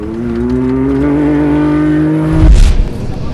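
A Can-Am side-by-side rally vehicle in the 2019 Dakar Rally holds a loud, sustained engine note close by. A sudden burst of gravelly roar and rumble follows as it passes or accelerates away.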